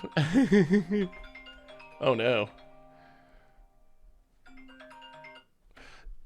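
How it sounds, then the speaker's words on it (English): A phone rings with a melodic electronic tone in bursts during a Magic: the Gathering game session, loud and close, with a person briefly talking between the rings. "Forgot to turn the phone off"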